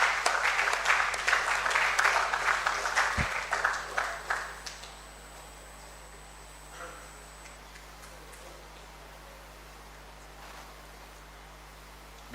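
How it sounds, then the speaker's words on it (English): Applause from an audience at an inter-school debate as the competing teams return to their seats, dense for about four seconds, then fading quickly into quiet room tone with a faint lingering tone. "Let us give our Accra Academy and St. Mary's a round of applause as they go to their seats"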